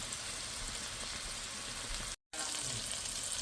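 Salmon pieces shallow frying in oil in a pan, a dense, steady hiss of close, bright sizzling that breaks off for a moment before carrying on unchanged.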